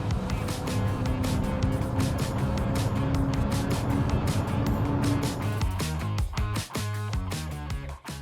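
A Hyundai Nexo hydrogen fuel-cell car accelerates on the road, giving a steady whirring drone with a rising tonal whine that continues for several seconds before breaking into choppier, uneven noise near the end.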